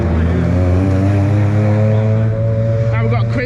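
A Mitsubishi EVO race car at the Anglesey time attack roars loudly and close, its engine note holding a strong steady drone before shifting near the end.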